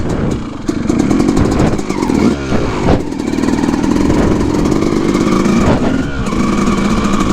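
A Grom clone motorcycle engine drones loudly and steadily while being ridden along a woods trail, with slight rises and dips in pitch as the rider goes up and down, close to the microphone.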